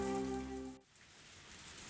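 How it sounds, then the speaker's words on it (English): Rain falls in the Higurashi When They Cry visual novel, a soft, steady hiss that comes in as a sustained musical tone cuts off, faint and even, with no one talking. "Of all the time, why is it raining now?"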